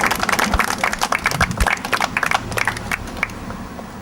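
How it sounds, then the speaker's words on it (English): Round of applause from an audience at an outdoor plaque unveiling for a maritime association, dense clapping loud at first and thinning out toward the end, with no talk over it. "give Edward and Shirlee a big round of applause"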